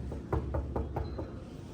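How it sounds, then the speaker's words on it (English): Knocking on a neighbor's door: about five quick raps in a steady, even rhythm, close and fairly crisp, with no voices during the knocks. "Let's go knock on our neighbor's door."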